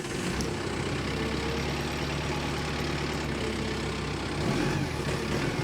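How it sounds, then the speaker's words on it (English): A 2022 Kubota M7060D tractor with an LA1154 loader runs with a steady low diesel rumble, continuous and fairly even throughout, with a slight swell near the end. "I'm going to start this tractor up"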